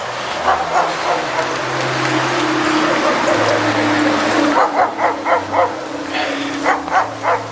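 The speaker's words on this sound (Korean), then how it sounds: "개 짖는 바람이" Several dogs bark in a rural village in Seongju County, South Korea, over land for sale as factory or farm plots. A steady outdoor hiss comes first, then a run of sharp, repeated barks at moderate distance.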